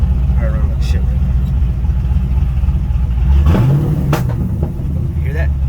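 A 5th generation Chevrolet Camaro engine that is hard to start when hot cranks and catches, then runs rough with a steady low rumble and a brief rev, close up under someone talking.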